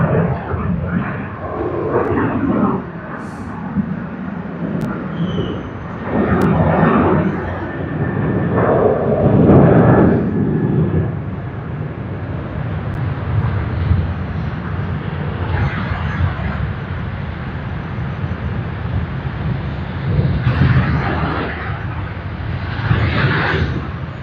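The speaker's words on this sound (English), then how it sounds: "Let us see if we get the wheels touched down and the smoking out there." A heavy airliner landing at Sydney Airport, a loud roaring engine rumble that swells and recedes across the runway, heard at a distance with a few surges as the wheels touch down.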